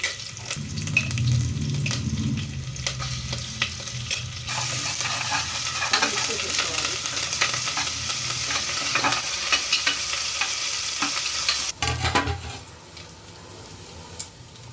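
Onions, curry leaves and ginger garlic paste sizzle loudly in a pan, with frequent scraping stirs and a brief quieter stretch near the end before the frying picks up again; nobody speaks.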